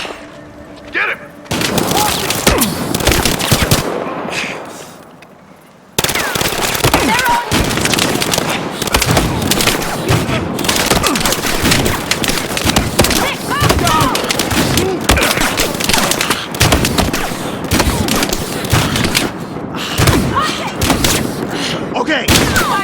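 Video game gunfire in a busy firefight, dense overlapping blasts and booms going on almost without a break, with shouted voices mixed in and a short quieter gap early on.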